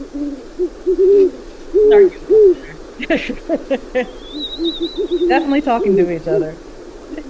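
Great horned owls hoot back and forth in a male-female duet, with deep low hoots alternating in short phrases, heard under nearby talk and a higher chirping bird call.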